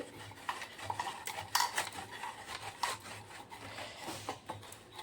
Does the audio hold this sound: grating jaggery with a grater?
yes